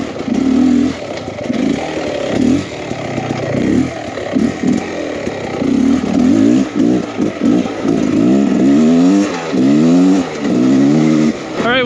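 2023 Beta Xtrainer 300 two-stroke enduro motorcycle engine lugging at low revs, a loud close burbling putter that swells and dips in repeated pulses, with a voice talking over parts of it.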